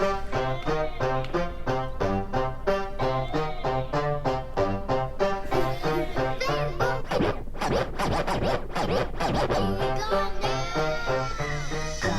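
Rhythmic DJ scratching on a Denon DJ Prime Go controller, rapid back-and-forth scratches cutting across a playing music track with a flanger effect, loud and continuous.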